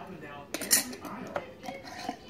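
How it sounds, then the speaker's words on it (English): A lid is set on and fastened to a glass salad jar, giving a few close clinks and clatters with quiet talk around them. "Put the lid on."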